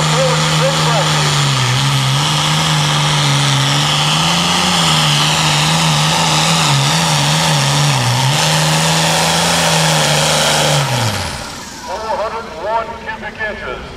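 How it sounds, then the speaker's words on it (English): Ford pro farm pulling tractor with a big 414 cubic inch square engine, roaring loud and steady with wavering pitch for about eleven seconds before cutting off abruptly, followed by faint crowd noise. "here we go with one of Ford's big tractors"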